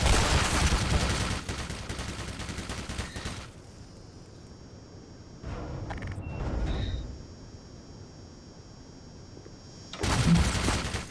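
Automated turrets in the game Black Mesa fire rapid bursts of gunfire, a dense rattling volley at the start, a quieter gap with beeps, then another short burst near the end.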